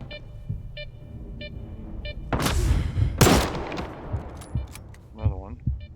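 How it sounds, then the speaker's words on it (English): Enemy gunfire in Stalker 2 in Northern Yantar, a few sharp single shots followed by loud overlapping bursts and booms, then scattered fainter reports and a ringing tail. "It's trying to shoot me from here, I see."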